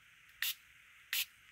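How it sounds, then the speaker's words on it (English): Two short bursts from a spray bottle misting water onto distress ink on paper, crisp hissy spritzes close up about a beat apart against quiet room tone. "We already know what's going to happen with the distress ink because Brandy can't spray"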